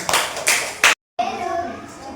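A class of fifth-grade schoolchildren claps together in a short burst of applause, dense and close, with a brief pause before more clapping and children's voices continue.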